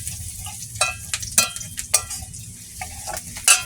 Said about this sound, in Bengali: রসুন সব এতবার দিয়ে দেবো, লঙ্কা টঙ্কা সব ভাজতে ভাজতে লাল হয়ে যাবে